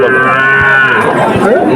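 A calf at the Pohordanga cattle market in Narail lets out a single loud, close moo lasting under two seconds.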